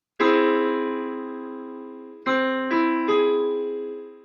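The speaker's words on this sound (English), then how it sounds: "So an augmented triad almost sounds a little strange." A piano augmented triad struck and left ringing, then struck again three times in quick succession, each decaying slowly, clear and close.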